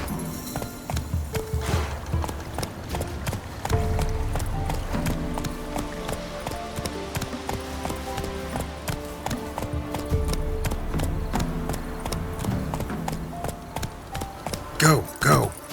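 A horse in The Witcher 3 video game trots along with a steady, rhythmic clip-clop of hooves, close and clear beneath a continuous musical score.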